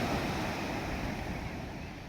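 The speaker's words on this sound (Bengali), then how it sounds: "সকালে হাওয়া, মানে এখন হাওয়া দিচ্ছে, চিল্ড হাওয়া দিচ্ছে," A cold morning wind blows hard across Puri sea beach, a dense steady roar of wind mixed with surf that fills the whole stretch, close and loud, with no voices.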